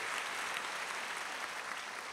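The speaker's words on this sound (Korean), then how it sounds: "예, 박수하겠습니다" A church congregation applauding after a quartet's hymn, with dense, steady clapping throughout that sounds somewhat distant and soft.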